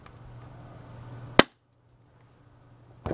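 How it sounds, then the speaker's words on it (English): A single sharp airsoft gun shot fired during an FPS test, a loud snappy crack standing alone against a faint hiss, followed by near silence and then a brief rattling of handling noise at the end. "we'll try and do one more shooting test here"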